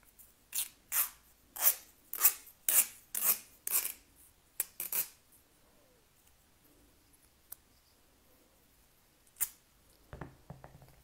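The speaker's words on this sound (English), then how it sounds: "So I'm going to tear off another strip off of this roll" Athletic climbing tape rasps loudly as strips are pulled off the roll, a rapid run of about eight rough tearing bursts close by, then a few scattered rips and handling sounds.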